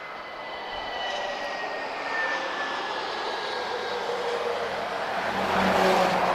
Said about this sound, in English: So first generation of A320 here.